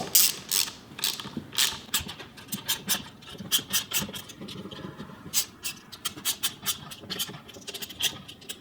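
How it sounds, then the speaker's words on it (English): Lash adjusters going into a Ford cylinder head with a valve spring compressor tool over stiff valve springs, giving repeated close metallic ratcheting clicks and clanks in an irregular rhythm, with no talk. "to install each lash adjuster with that tool"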